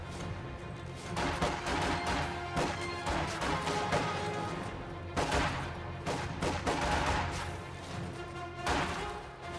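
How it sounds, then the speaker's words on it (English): Infiltration grenades detonating in a video game, a dense burst of crashing blasts and rattling gunfire in two loud surges, with a voice talking underneath. "Infiltration grenades going off here."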